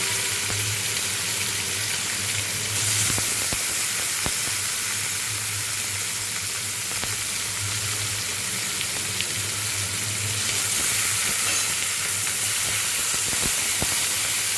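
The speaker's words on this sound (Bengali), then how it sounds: "এবার আমি ডুমুরটা ছেড়ে দেবো ডুমুরটা সেদ্ধ করা হয়ে গেছে" Boiled figs frying with spices in a pan give a steady, close sizzle and hiss with occasional soft stirring clicks, a bit louder around the third and eleventh seconds, no voices.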